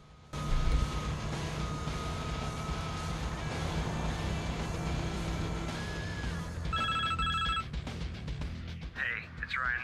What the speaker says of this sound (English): I wonder if we get a mysterious phone call.